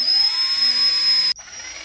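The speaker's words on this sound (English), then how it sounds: "my drill to start making the smaller holes" A power drill whines steadily at high speed while boring small holes in the stock of a Beretta 1301 Tactical shotgun, then cuts off abruptly near the end, leaving quiet room tone.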